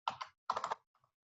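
Keys clatter on a computer keyboard in two quick bursts of several close, crisp taps each, followed by a couple of faint isolated presses in an otherwise silent room.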